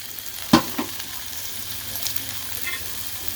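Pork frying in oil in a hot pan gives a steady close sizzle, with a couple of sharp utensil knocks near the start.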